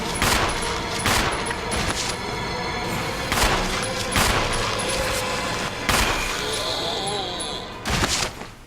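Rapid bursts of gunfire from the Resident Evil REmake survival-horror game, loud repeated shots in uneven clusters over a steady background of game music and ambience.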